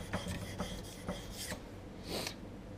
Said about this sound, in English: So you want to rub that in there flat like this to get that lip off.